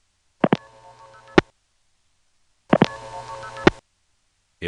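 A 1977 telephone network in Ramseur, North Carolina sends key pulse tones: two separate bursts of steady multi-tone signalling, each about a second long and set off by loud clicks, with silence between them.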